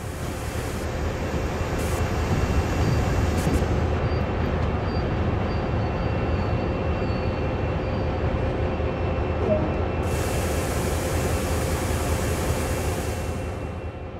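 An SD40-2 diesel locomotive in Train Sim World's yard switching slows to a stop: a steady low rumble with rail noise and a brief high brake hiss at the start, then a louder hiss of air brakes near the end.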